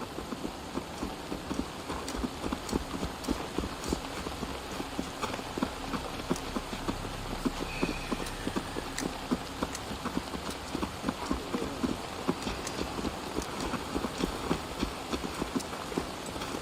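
Horse hooves clip-clopping in the video game Assassin's Creed Valhalla, a steady rapid rhythm of hoofbeats running continuously at moderate volume with no talk over it.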